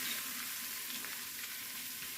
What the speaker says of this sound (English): Perfectly browned, getting all broken down and ready to eat.